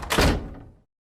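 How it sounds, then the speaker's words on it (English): A door is shut indoors, giving one short close thunk that dies away quickly into silence. "Close the door."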